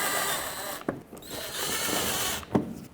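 Power tool driving 7mm screws into an undercar shield on a 2007-2009 Saturn Aura, a steady whirring drone with brief sharp clacks as screws seat, close and fairly quiet.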